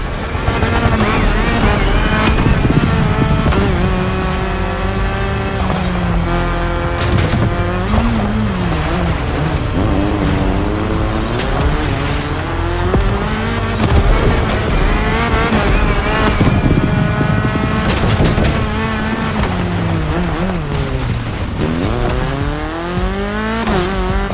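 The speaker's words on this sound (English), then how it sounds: "mine is the Audi S1 EKS RX Quattro, a 600 HP four-wheel drive" A 600 HP four-wheel-drive Audi S1 EKS RX Quattro rally car in The Crew Motorfest, tearing through Hawaiian jungle, roars close up with repeated rising and falling revs through gear changes, tire squeal and skids, loud and continuous.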